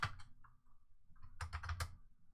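A short burst of computer keyboard typing, a few scattered keystrokes followed by a quick cluster of clicks, close and quiet with no talking.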